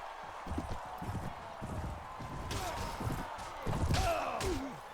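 Horse galloping in the video game Mount & Blade Warband, in a tournament charge, rapid thudding hoofbeats mixed with clashing combat noise and a brief animal cry near the end.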